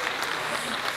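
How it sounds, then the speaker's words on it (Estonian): Dense, steady applause from a concert audience at an Estonian St. Catherine's Day folk concert, a brief continuous wash of many hands clapping together with no gaps. "Teeme neil ühe suure aplausi"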